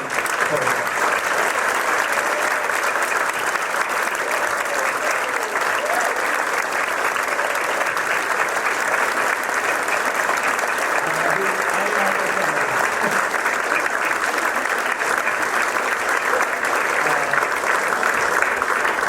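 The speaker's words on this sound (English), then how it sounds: "So we'd like to have you join us in just thanking them with a round of applause for Mr. Michael Malthaner and Mr. Charlie." Sustained audience applause of thanks at a Christmas event, a dense, steady wash of many hands clapping at full, even loudness for the whole stretch, with no voices breaking through.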